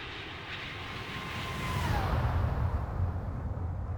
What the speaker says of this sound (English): Let's listen to this flyby.